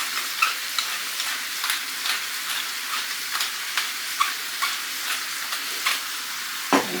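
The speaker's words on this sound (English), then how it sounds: "Stir that all in." Mushrooms stirred into salted butter in a frying pan, a steady close sizzle broken by regular scraping and tapping strokes of the utensil, with a sharper knock near the end.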